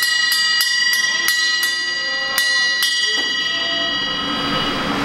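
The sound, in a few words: service bell rung at an Arby's restaurant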